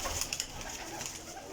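Pigeons coo softly a few times, with soft rustling and faint background noise around them.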